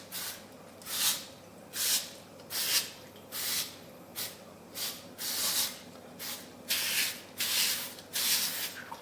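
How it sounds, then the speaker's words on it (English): Cooking spray misted into the cups of a 12-cup muffin pan during home baking, about ten short hissing bursts in an irregular rhythm, close and moderately loud with a faint background hum between sprays. "I do, however, still like to spray insides of the cup."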